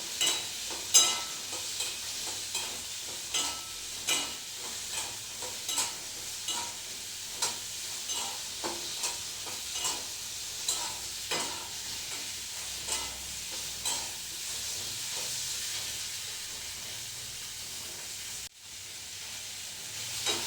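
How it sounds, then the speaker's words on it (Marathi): Onion and tomato roast in a pan for a paneer curry, with a spoon stirring in a regular rhythm of soft scrapes over a low, continuous sizzle, heard up close and fairly quiet. "आधी कांदा टॅमॅटो भाजून घेऊया"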